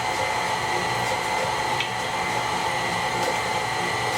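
An electric mixer whirs on low speed through pound cake batter with flour, a steady, even motor drone that runs unbroken and fairly close throughout, with no talking.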